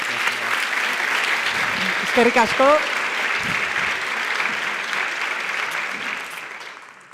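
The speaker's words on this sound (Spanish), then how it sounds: "Despedimos a la mesa con un fuerte aplauso, por favor." A round of applause from the audience at a round-table panel session on social sustainability, a dense steady clapping that fades toward the end, with a brief spoken phrase partway through.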